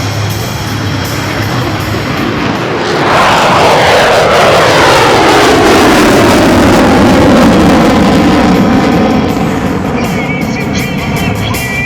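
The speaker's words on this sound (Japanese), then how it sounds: "F-35B ライトニング2が離陸を開始します。" An F-35B Lightning II military jet takes off at the MCAS Iwakuni air show, its engine swelling into a loud, continuous roar that sweeps in pitch and dominates throughout, with no voices.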